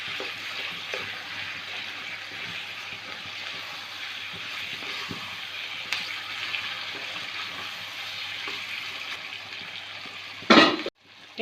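Meat curry seasoned with Kashmiri red chili is stirred in a pan, giving a steady, close sizzle with soft scrapes throughout and a sharp clatter of the spoon near the end.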